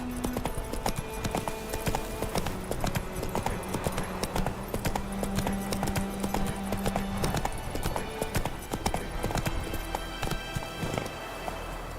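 Horse hooves clip-clop at a steady trotting rhythm in The Witcher 3, loud and close, with a quiet background tone underneath and no talking.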